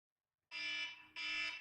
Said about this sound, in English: I need to turn that alarm off.